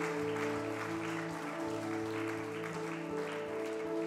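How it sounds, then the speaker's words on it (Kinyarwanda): An audience at a church gathering claps steadily, a dense continuous applause under sustained organ or keyboard tones, moderately loud throughout. "tugukomeye amashyi menshi,"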